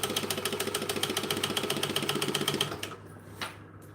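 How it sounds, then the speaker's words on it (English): A sewing machine slowly back stitches a fabric market bag, its needle ticking in a steady rapid rhythm for a few seconds before stopping, followed by a faint clunk. "We want to slowly back stitch so I don't mess things up."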